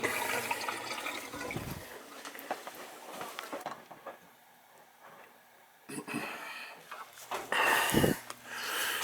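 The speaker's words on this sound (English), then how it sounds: "just draining a little bit of the boiler out so I could change this" Glycol-filled water drains from a heating boiler near a Taco zone valve, heard as intermittent splashing and gurgling with handling noises and a quieter stretch in the middle.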